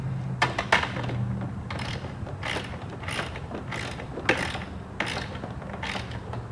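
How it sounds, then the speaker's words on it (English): Wrench tightening a cap nut down onto a bolt during sandbox assembly, giving a run of quick repeated ratcheting clicks in a steady rhythm, close and moderately loud, with no talking. "Use your wrench."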